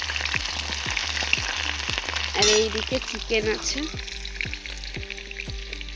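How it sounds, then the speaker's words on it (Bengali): Potatoes frying in hot oil give a steady, close sizzle with a regular ticking pulse underneath, while someone talks over it partway through. "এই যে দেখো আলু ভাজা হচ্ছে এখন"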